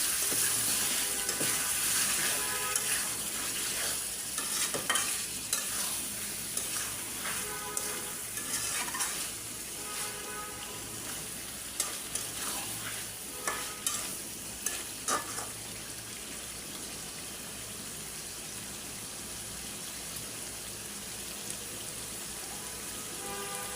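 Chicken pieces frying in a pan as a cook stirs them, with a continuous sizzle broken by repeated scraping and clattering strokes, close and steady with no talk.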